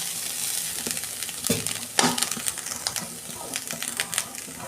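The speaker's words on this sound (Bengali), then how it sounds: "এই যে কড়া বসিয়েছি, আমি নারকেলটা ছাই মেরে নেব।" Grated coconut dry-roasting in a wok on a gas stove, with a light crackle and repeated scraping, tapping strokes of a spatula, close and irregular, plus brief background sound.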